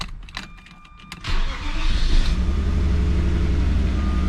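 A few clicks, then the engine of a BMW E34 winter beater with running issues cranks and catches, settling into a steady, close idle with a low rumble.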